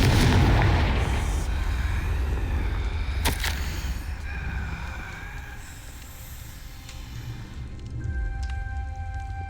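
Confringo blasting curse in Hogwarts Legacy: a booming explosion opens with a low rumble, a sharp crack follows a few seconds later, then a magical shimmer and ringing tones trail off quietly.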